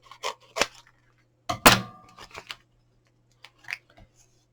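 Card stock being cut by hand for a coffee and chocolate gift pack, heard as a few short, crisp snips with gaps of quiet between them, close and fairly soft.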